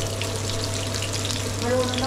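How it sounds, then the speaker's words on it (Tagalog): Filipino spring rolls fry in a pan of hot oil, giving a steady, dense sizzle that holds for the whole moment, with a low hum underneath. "Prito-prito lang yan"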